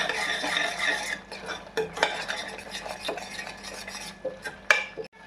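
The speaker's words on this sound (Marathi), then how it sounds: "एक चम्मच धना पावडर आणि सर्व मिक्स करून घ्या." A spoon stirs spices with turmeric and coriander powder in a pan, giving steady scraping and clinking against metal with faint sizzling underneath, close and alone without any voices.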